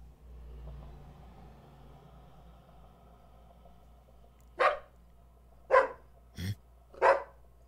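Four sharp dog barks ring out one after another, spaced about a second apart, after a low rumble fades. They come in an anime-themed audio roleplay.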